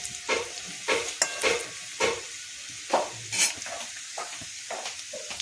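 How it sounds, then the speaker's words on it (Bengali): Chopped ginger stirred in hot oil in a frying pan for chili soya, with a bright steady sizzle broken by rhythmic scraping strokes of the spoon, close and clear. "তারপরে আদা কুচি, দিয়ে একটুখানি জাস্ট নাড়তে হবে।"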